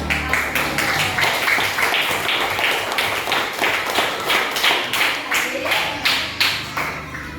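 Fourth-grade classroom of students clapping hands together in a rhythmic, evenly spaced pattern, loud and close, with children's voices mixed in beneath the claps.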